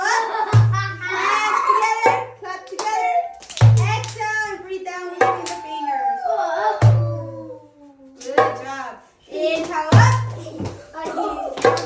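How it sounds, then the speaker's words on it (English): Children in an early-education sound therapy session clap their hands together in short rhythmic bursts to a count of four, repeated several times, while an adult voice talks and guides between the claps. "Come on, clap. 1, 2, 3, 4."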